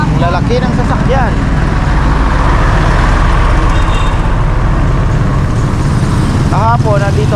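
A large truck passes on a busy market road, a loud, continuous engine rumble under steady traffic noise, with brief voices audible at the start and end.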